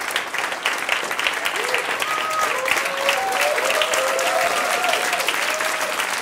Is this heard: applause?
yes